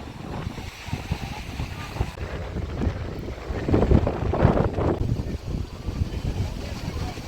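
Strong wind buffets the microphone on the New Digha sea beach, roaring gusts that swell in the middle, with the rumble of surf beneath.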